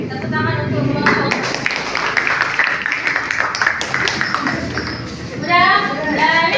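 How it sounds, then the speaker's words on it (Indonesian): A class applauds a student group after their presentation, a dense burst of clapping from many hands mixed with voices talking over it, the clatter thinning out before a last flurry near the end. "Oke, tepuk tangan untuk kelompok."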